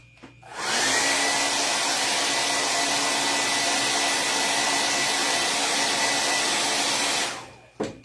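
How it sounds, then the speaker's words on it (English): A blow dryer drying paint on a handmade wax-and-paint reindeer decoration roars steadily for about six and a half seconds, switched on and off with clicks at either end, loud and close with no talking. "I'm going to take a blow dryer to her really quick."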